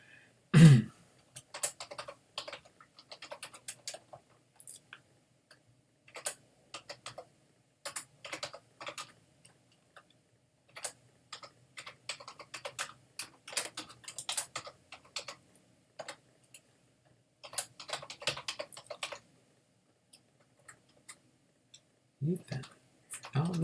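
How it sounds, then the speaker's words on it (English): Keystrokes on a computer keyboard come in quick, quiet bursts separated by short pauses, a steady stop-and-start tapping that runs for over twenty seconds, with a brief low thump at the start and end. "I know how to type that one in."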